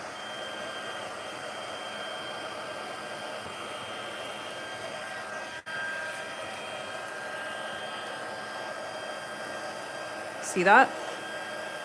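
A heat tool blows hot air onto adhesive on a handmade diamond fun-fold card, a steady close whir throughout, with a brief spoken remark and a short sharper burst near the end.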